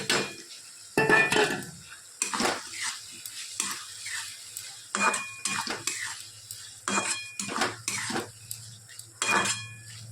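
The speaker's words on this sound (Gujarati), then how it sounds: "હવે એના અંદર આપણે ટામેટાં નાખી દઈએ." Pan cooking sounds as tomatoes are added to onions, with repeated stirring and scraping clatters against metal, over a faint sizzle, in a series of short bursts.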